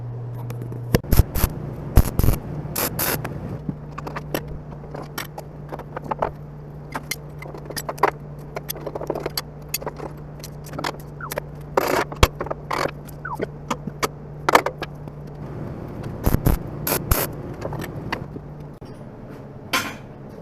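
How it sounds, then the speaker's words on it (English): Brackets being tack welded onto a steel equipment trailer frame: a steady electrical hum runs throughout, broken by repeated sharp crackling bursts and metallic clicks at close range, with no talking. "So I think I'm ready to tack these two brackets up."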